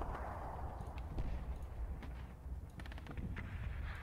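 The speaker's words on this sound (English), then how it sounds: "This arty is coming down right now" An artillery barrage in the World War II video game Combat Mission Battle for Normandy rumbles in a low, continuous roll with scattered distant crumps and thuds, moderately faint and without talk.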